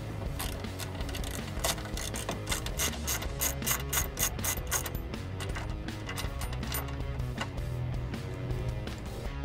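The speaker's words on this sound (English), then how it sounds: "You're going to want to remove that using a 10 millimeter socket." A 10 mm socket ratchet clicks rapidly and continuously as it removes a seat stop on a Kawasaki KRX 1000, close up with a dense metallic pawl rattle and no talking.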